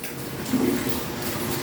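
A kitchen tap runs steadily as dishes are washed, a continuous wash of water noise filling the short moment with no break.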